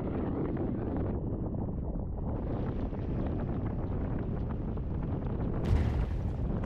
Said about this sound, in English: As you can see, the wind's still blowing.